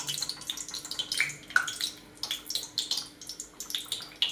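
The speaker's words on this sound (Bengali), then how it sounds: "এবার ভাজতে আমি আরম্ভ করবো।" Luchi fry in hot oil with a close, continuous sizzling hiss broken by bubbling crackles and small pops. No voices are heard.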